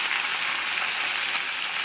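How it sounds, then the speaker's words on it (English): Leftover spaghetti with meatballs frying in butter in a pan, a close, bright, continuous crackling sizzle that holds steady and dense throughout without a pause. "Oh, listen to that sizzle."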